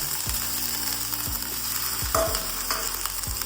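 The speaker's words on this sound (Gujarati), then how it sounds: "આ તેલ આપણું ગરમ થઈ જાય એટલે આપણે એની અંદર આદુ મરચી અને લસણ એની પેસ્ટ ઉમેરવાની છે" Ginger, chili and garlic paste hits hot oil on a high flame, giving a steady sizzle and crackle, with a few sharp clicks and scrapes from stirring in the pan.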